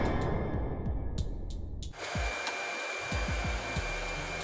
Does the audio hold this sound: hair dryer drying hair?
yes